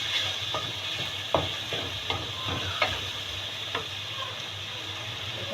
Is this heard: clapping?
no